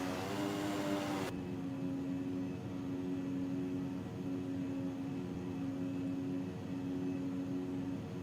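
Steady twin-turboprop drone of a C90B in a flight simulator, a constant even engine hum with a sustained tone, moderately loud and unbroken after an abrupt change near the start.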